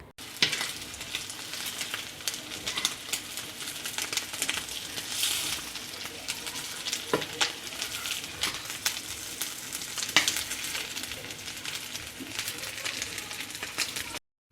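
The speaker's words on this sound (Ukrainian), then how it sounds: "А так йоржиків я піджарив аж так, щоб покрасніли." Small ruffe fish fry in a pan with a steady, dense sizzle that holds at an even level throughout, broken by a few brief clicks and pops as the fish are stirred or turned.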